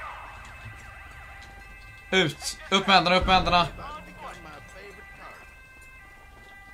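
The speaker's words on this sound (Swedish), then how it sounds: "Jag ska bara stänga av mina sirener." Police car siren in the video game GTA, wailing in a steady rising-and-falling pattern at moderate volume. Loud shouted talk then cuts across it.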